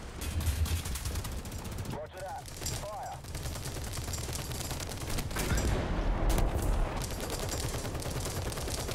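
Tank cannon and machine-gun fire in the War Thunder video game, loud repeated bursts and booms over constant battle noise, with someone talking throughout.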